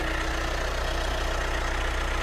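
A Mitsubishi Triton single-cab 2.4 common-rail diesel pickup idles steadily up close, with a low rhythmic knocking throb and no voices.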